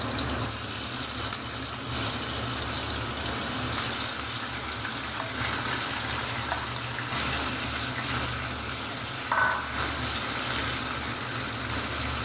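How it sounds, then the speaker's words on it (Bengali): Rohu fish rubbed with salt and turmeric frying in mustard oil in a wok, a steady, even sizzle that runs continuously at moderate loudness with no voices. "ভেজে নিচ্ছি।"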